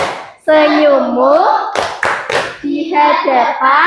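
Children clap hands in rhythm during a classroom clapping chant, sharp claps broken up by sung and spoken voices.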